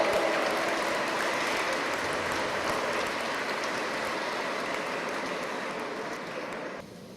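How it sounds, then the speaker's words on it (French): Congregation applauding during a church vigil service, a steady wash of many hands clapping at moderate distance, sustained evenly and fading slightly before ending abruptly. "On va t'applaudir, ma grande"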